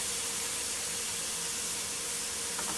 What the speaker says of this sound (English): So to the hot oil now, you're going to add your onion.